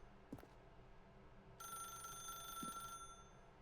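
A telephone rings in a video game, a single electronic ring burst that is quiet and brief, set among faint ambient tones and a couple of soft knocks.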